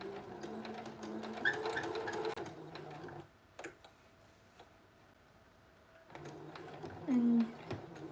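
A sewing machine stitching a red dress alteration, running in bursts of fast, even ticking with a pause in between, close by, with a voice talking under part of it.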